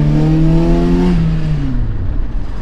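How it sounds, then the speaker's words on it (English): Honda CRX engine revving hard up close as the gas is pressed, a loud throaty rise that then winds down over a couple of seconds. "now I'm gonna step on the gas"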